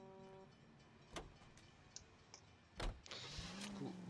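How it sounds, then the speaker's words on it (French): A car is driven in the Black Desert Online video game, with quiet clicks and ticks over a low hum, then a louder thump and a rising engine drone near the end. "c'est moi qui conduis le véhicule"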